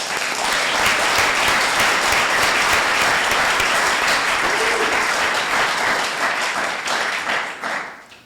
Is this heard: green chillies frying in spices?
no